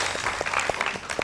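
Studio audience applause on a morning TV talk show, a dense, steady patter of many hands clapping at moderate loudness with no clear voices over it.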